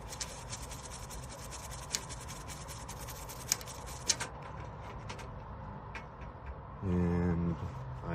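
Toothbrush scrubbing a circuit board wet with 91% isopropyl alcohol, a quiet steady rasping scratch with faint clicks, followed near the end by a brief low mechanical hum.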